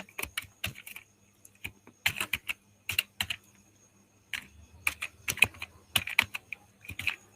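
Keys clatter on a computer keyboard while text is entered in Microsoft Excel, coming in quick close bursts of keystrokes separated by short pauses, with no voices.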